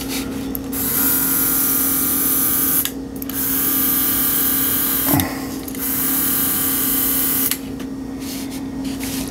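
A heat gun heat-setting paint on a fishing lure, a loud, steady blowing whine with a fixed motor tone, interrupted by a few short dips.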